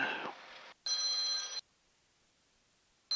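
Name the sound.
phone ringing in an aircraft cockpit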